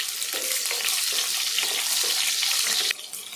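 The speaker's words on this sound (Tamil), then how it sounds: "இப்போ ஒரு கைப்பிடி சின்ன வெங்காயம் போட்டுடலாம். அப்படியே முழுசாவே போட்டுடலாம்." Whole small shallots are dropped into hot oil and fry with a bright, steady sizzle. Light stirring clicks come through, and the sound drops off abruptly near the end.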